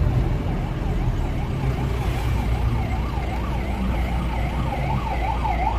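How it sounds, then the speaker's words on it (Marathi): A fire brigade truck siren wails in a steady rising and falling pattern as the vehicle moves along a road during a Pune to Karnataka road trip, loud and close over constant traffic and engine rumble. "तर फायर ब्रिगेड"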